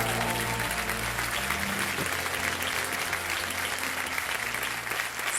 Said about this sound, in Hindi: एक बार जोरदार तालियां फिर हो जाएं कविता जी के लिए।